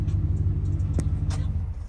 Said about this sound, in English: Okay, the truck is running now, the amp is on.